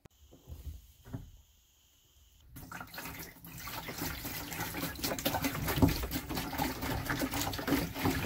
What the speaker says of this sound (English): I've got a gallon of water here. I'm going to put it into my tank.